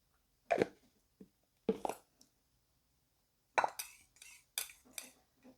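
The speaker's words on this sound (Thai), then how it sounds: "ก็เอาถ้วยมาผสม ใส่น้ำปลาไปหนึ่งช้อนโต๊ะ แล้วก็ใส่น้ำเชื่อมนะคะ" Fish sauce and syrup being mixed in a bowl for a Thai dipping sauce: sparse, close clinks and plops of a spoon against the bowl, separated by silence, with a short pause midway.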